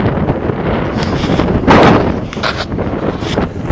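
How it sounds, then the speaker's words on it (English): Strong wind blows outdoors around trucks, loud continuous gusting and buffeting of the microphone with a stronger gust in the middle, no talking. "Ooh, it's windy as hell."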